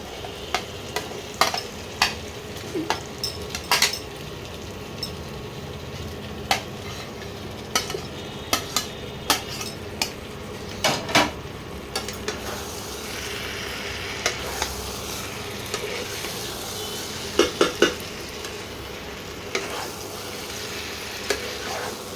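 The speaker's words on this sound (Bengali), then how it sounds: "ভালো করে মশলা আর মাংস ভালো করে কষিয়ে নিতে হবে" Chicken pieces fry in hot oil with spices, a steady sizzle running underneath as a spoon stirs and scrapes the pan in frequent short clacks, close by with no one talking.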